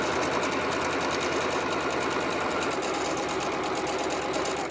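A sewing machine stitches a quarter-inch seam on quilt pieces of half-square triangles, a loud, steady, rapid mechanical whir and needle chatter running without pause from start to finish.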